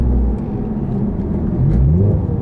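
A 2017 Honda Civic Type R FK8 braking from the cabin, its engine note blipping and sweeping up and down as the automatic rev-matched downshifts land over a heavy low rumble, loud and close.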